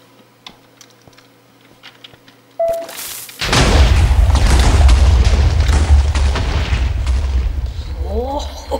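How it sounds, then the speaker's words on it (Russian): Small keyboard clicks give way to a sudden deep boom and a long rumbling explosion in Minecraft, loud and sustained, with a voice briefly heard near the end. "О, вот это взрыв. Вот это взрыв. Мощный."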